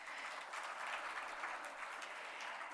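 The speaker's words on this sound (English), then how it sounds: "that calls for a round of applause" Steady applause from an audience at the Devi Awards ceremony in Chennai, dense and even throughout with no voices rising above it.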